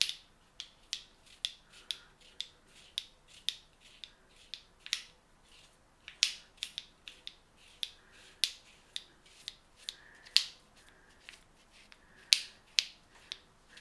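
Sharp, regular clicks of a razor gripping while shaving a head, repeating about once a second, close and crisp, with a faint rasp between them and no talking.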